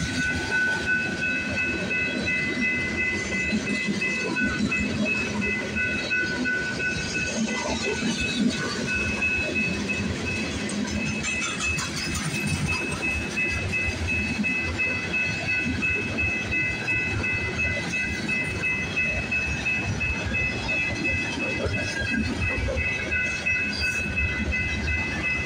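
CPKC freight trains pass at night at Bronte Street, Milepost 33 on the Galt Subdivision, with a steady loud rumble and clattering wheels, a high wheel squeal ringing throughout, and no talking.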